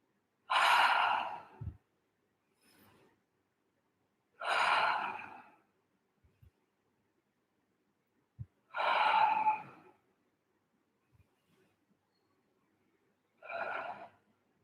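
Slow, deep breaths drawn in through the nose and released through the mouth, four long airy exhalations spaced evenly apart, close and clear with quiet pauses between.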